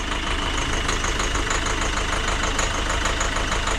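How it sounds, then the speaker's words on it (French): Close, steady idle of a Citroën C4 engine with a tensioner pulley noise, an even mid-range hum with a light repeating knock and no voices. "Et il y a un bruit de galet."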